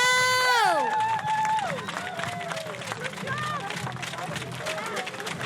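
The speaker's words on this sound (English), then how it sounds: "Let's give them a huge cheer." Crowd cheering and shouting at the dock out of a sailing race in Gothenburg, a loud burst of voices that settles into a sustained roar of cheers with whistles and calls over a busy background.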